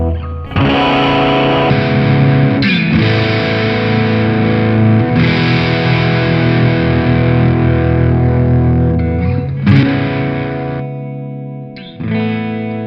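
Heavily distorted electric guitar played through a Mesa Rectifier amplifier on its high-gain channel, a loud sustained chordal wall with a few brief breaks and re-attacks near the end, alone with no talk.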